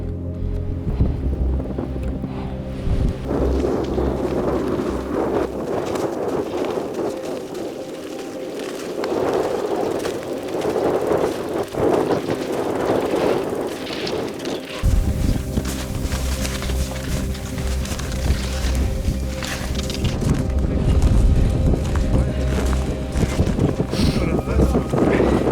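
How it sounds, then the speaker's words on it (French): Cold winter wind gusting across a 2800 m mountain peak in February during a mountain bike climb, a loud continuous roar buffeting the microphone, swelling and easing, with voices talking over it. "Et le vent qui n'arrange rien."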